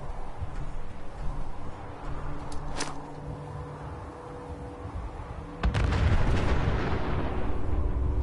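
A grenade explodes in Fallout 4 amid a steady background rumble, with a sharp crack midway and then a heavy booming blast that rolls on loudly to the end.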